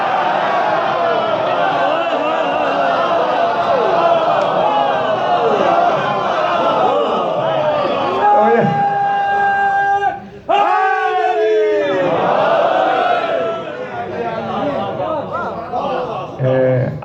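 A crowd chants slogans together at a religious gathering during Ramzan, with dense massed voices rising and falling loudly and continuously. A brief horn-like tone cuts through near the end.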